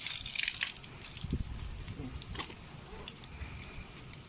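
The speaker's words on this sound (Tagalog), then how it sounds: "So tingnan mo, yan ang lumalabas na tubig." Water carrying sand gushes and splashes out of a pipe at a biosand filter site in Leyte, a steady close, loud rushing flow with scattered drips and spatters and no talking.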